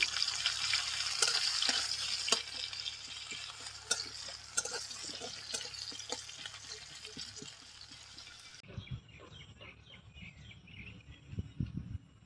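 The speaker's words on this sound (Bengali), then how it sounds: "পেঁয়াজগুলোকে লাল লাল করে ভেজে নেব" Chopped onions frying in oil for a fish-oil curry, a dense steady sizzle with scattered crackles and occasional stirring scrapes, quieter and thinner toward the end as low clatter rises.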